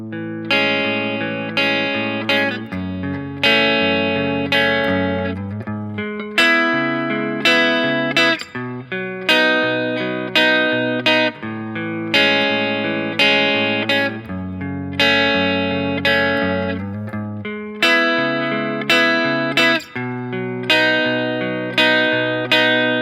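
A guitar plays a repeating pattern, plucked notes and strummed chords, clear and loud, cycling steadily with no voices.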